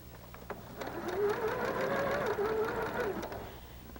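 A sewing machine runs steadily for about two seconds as it stitches a seam through pinned quilt fabric, a close, continuous whirring drone with a faint start-up and slow-down at either end.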